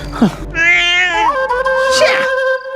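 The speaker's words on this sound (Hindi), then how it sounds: "बिल्ली" A cat meows in one drawn-out, wavering cry followed by a second rising call, close and clear, at night near bushes, with no talk over it.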